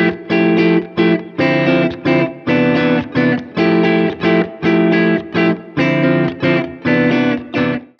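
Loud, slightly distorted math rock guitar strumming in 4/4, a choppy syncopated rhythm accenting the second and fourth beats, with short accented chord bursts separated by quick muted gaps.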